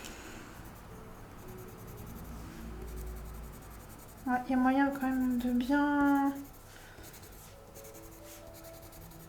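Pencil coloring pressed hard on paper, a faint continuous scratching and rubbing close by, with a person speaking briefly partway through.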